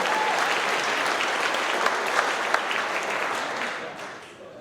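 An audience claps in a dense burst of applause that holds steady, then gradually fades out toward the end.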